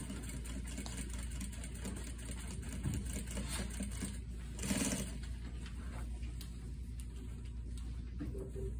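Sewing machine stitching a shawl collar, a continuous low mechanical whir with a rapid even needle rhythm, faint and steady with slight swells midway.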